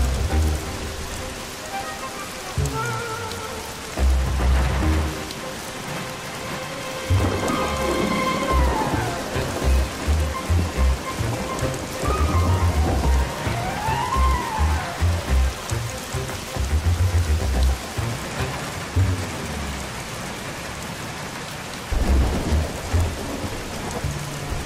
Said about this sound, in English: Oh no, not the rain!